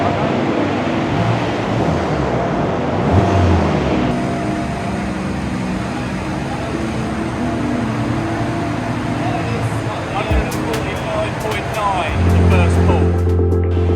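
Car engine held at full power on a dynamometer, a sustained loud roar with rumbling drone that shifts pitch midway and drops off near the end, recorded close with no talk.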